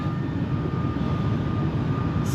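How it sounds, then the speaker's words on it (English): Steady low roar inside the cabin of an Emirates Airbus A380, a constant broadband rumble with a faint high whine running through it and no voices. "I'm now in the plane"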